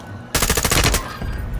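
Rapid automatic gunfire from Call of Duty Warzone on PS5 erupts suddenly, a loud close burst of fast shots lasting under a second, followed by lingering echoing rattle and a few scattered follow-up shots.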